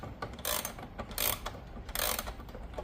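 Mainspring winding on an E.N. Welch gingerbread clock: three short bursts of rapid ratchet clicking, quiet and close, separated by brief pauses between turns of the key.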